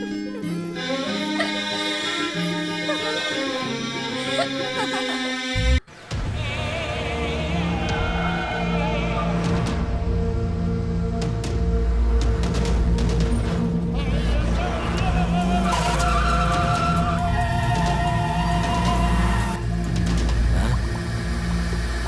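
Car chase in an action movie: roaring engines and screeching tires under dramatic music, with a sharp cut midway and voices talking over the continuous vehicle noise.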